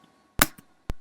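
Distorted raw hardstyle kick drum run through distortion, heard as a few short, loud, punchy hits with silence between them and no voice over them.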